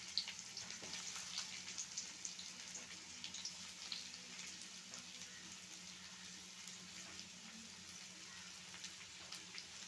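Chopped onions with garlic paste fry in a pan for chicken nihari, giving a faint, steady sizzle and crackle throughout with no voices.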